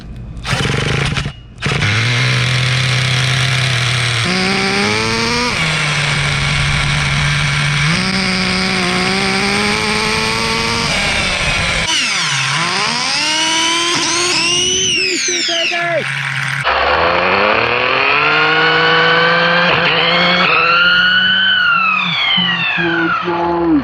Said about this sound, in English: Schumacher, Menace 21. Let's start her up.